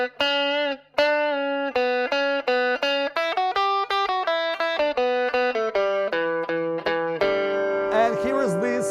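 Played on a guitar, a rockabilly lick in open position from the ending of a song runs as a quick series of clean, ringing plucked notes, finishing with several open strings struck together and sustaining.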